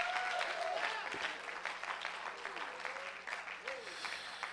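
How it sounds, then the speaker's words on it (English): Church congregation clapping steadily throughout, a dense, sustained patter of many hands in a reverberant sanctuary, with faint voices and a brief tone mixed underneath. "Some of you don't want to clap, and I know why, but go ahead and clap"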